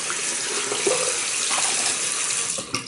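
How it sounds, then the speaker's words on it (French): Running tap water pours continuously and fairly loud into a sink as hands are rinsed after a traditional wet shave, with no talking. "Rincer les mains."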